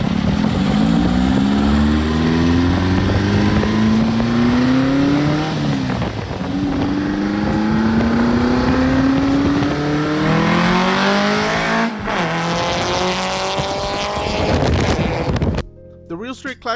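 A Volkswagen Beetle sleeper car on 91 pump gas revs hard through several rising pulls, its engine note climbing in repeated sweeps, loud and close with wind buffeting over it before cutting out abruptly.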